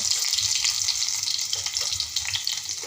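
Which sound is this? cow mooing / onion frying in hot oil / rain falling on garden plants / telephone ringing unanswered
onion frying in hot oil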